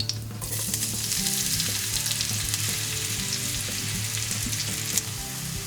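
The white part of spring onion fries in a little hot oil, giving a dense, steady close-up sizzle and crackle that continues unbroken throughout.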